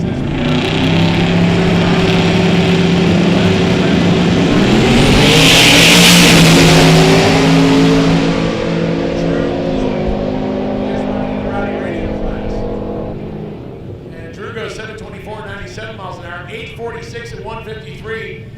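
A 1982 Mustang SVO clone drag car at a Sick Week drag racing event in Bradenton roars loudly, its engine note rising and swelling before fading away, with a crowd and announcer-style chatter audible underneath.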